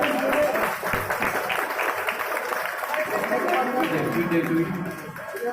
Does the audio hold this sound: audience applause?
yes